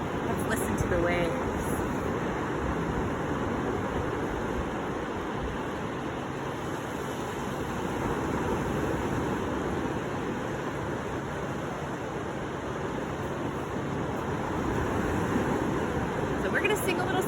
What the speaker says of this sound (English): Let's listen to the waves.